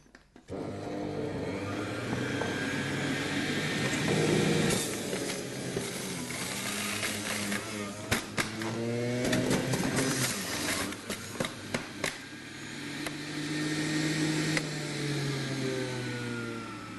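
A Sage Nutri Juicer Plus BJE520UK centrifugal juicer running: a steady motor whine with tonal hum that rises and falls in pitch, broken midway by a series of sharp mechanical clicks and clatters, close and moderately loud.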